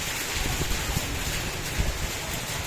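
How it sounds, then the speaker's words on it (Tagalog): Heavy rain and gusting wind roar steadily around an open, roofless tricycle carrying a packed group of riders, a dense continuous wash with low rumbling buffets and no voices. "ang lakas ng ulan. May kasama pang hangin."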